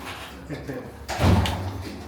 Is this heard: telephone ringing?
no